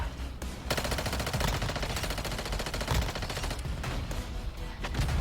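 Sustained rapid gunfire in Call of Duty: Warzone Mobile, dense automatic bursts with explosive cracks layered over a constant roar, loud and unbroken throughout.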